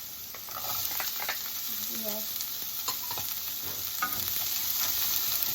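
Ginger and onion sauté in a pan with a continuous close sizzle of hot oil, broken by scraping spatula strokes and light clatters of stirring, with no voices over it.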